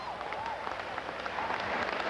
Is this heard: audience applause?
yes